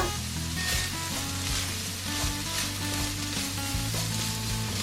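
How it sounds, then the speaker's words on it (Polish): Food sizzles and crackles steadily in a hot pan, a constant frying hiss with low hum and soft clinks, no one speaking; pork, tofu and onion frying for Korean sundubu jjigae stew. "Niech się ładnie razem smaży"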